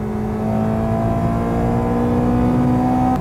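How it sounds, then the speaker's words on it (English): A Honda Integra Type R engine revs hard and climbs steadily in pitch into VTEC, a loud, close, rising whine held for about three seconds with no talking. "VTEC just kicked in, yo."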